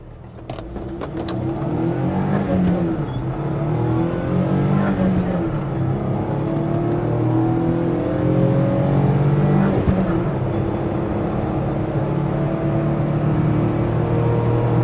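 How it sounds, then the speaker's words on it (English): A car accelerating hard at full throttle through the gears, the engine note rising steadily and loud throughout, close and continuous with no talking. "Fourth gear, one more to go. To the floor every time."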